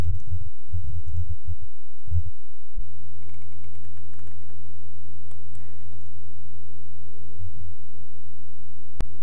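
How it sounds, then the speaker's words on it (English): Someone types a reply into an online discussion forum on a computer keyboard, producing scattered, fairly quiet key clicks in short irregular bursts over a steady low electrical hum. "and then typing your message."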